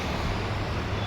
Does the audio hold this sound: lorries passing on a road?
yes